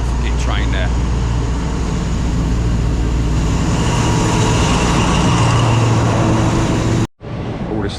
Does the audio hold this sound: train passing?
yes